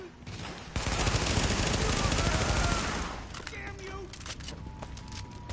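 Heavy, sustained burst of automatic gunfire from The Division on PS4 fills a few seconds before tapering into scattered shots and clatter, with someone speaking over it.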